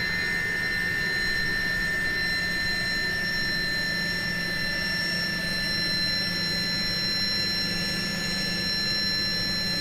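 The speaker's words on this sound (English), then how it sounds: "shutdown sounds are like interesting" Airbus A300 jet engines spin down during shutdown in Microsoft Flight Simulator 2020, a quiet, steady turbine whine with sustained high tones over a soft low rumble and no talking.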